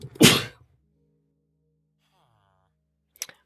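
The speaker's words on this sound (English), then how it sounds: "I could feel the sneeze" One sharp, loud sneeze close to the microphone, followed by near silence with a faint hum and a brief muffled noise at the end.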